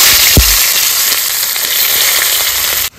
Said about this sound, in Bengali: একটু ভেজে পেঁয়াজ কুচি দিয়ে দেবো